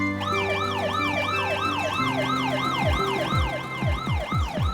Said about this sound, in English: Look, the ambulance is driving very quickly.